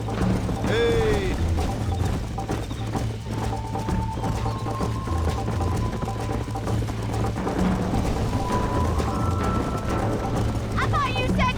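Horse hooves clatter in a steady galloping rhythm in a Red Dead Redemption ride, continuous and fairly close, with a brief neigh early on and music or ambient game sound beneath.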